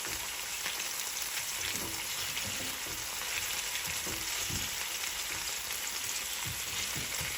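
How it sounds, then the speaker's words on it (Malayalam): Vegetables sautéing in chicken-flavoured oil in a pan give a steady, close frying sizzle with occasional soft stirring clicks, no voices. "അപ്പോൾ ഈ ചിക്കൻ്റെ ഫ്ലേവറുള്ള എണ്ണയിലാണ് ബാക്കിയുള്ള നമ്മൾ വഴറ്റിയെടുക്കേണ്ടത്"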